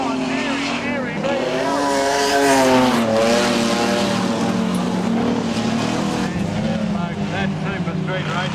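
Modified production race cars roar around Kingaroy Speedway in a continuous, loud engine drone with shifting pitch, while a commentator talks over the racing throughout.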